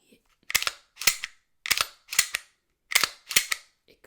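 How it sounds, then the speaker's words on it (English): A Glock 45 pistol fitted with a red dot sight has its slide racked by hand, giving six sharp, close metallic clacks in rough pairs, separated by silence. "you could just grab the slide like a normal pistol"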